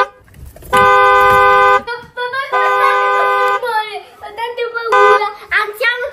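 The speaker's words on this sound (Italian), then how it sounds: "sembra un rumore di un clacson" A car horn honks in several long, loud blasts, each held for about a second, with a child and an adult talking between them.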